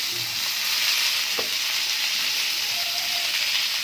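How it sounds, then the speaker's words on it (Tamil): Garlic, beans, carrot, capsicum and onion stir-fry in a hot pan for noodles, giving a steady, loud sizzle and hiss with faint stirring scrapes and no voices. "எல்லாம் போட்டு பரட்டிடணும்."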